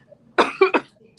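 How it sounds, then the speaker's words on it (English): A woman coughs sharply three times in a quick burst, close and loud, against a quiet background. "I still have a little tiny bit of a cough"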